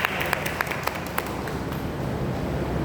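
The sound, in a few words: loud applause welcoming a church speaker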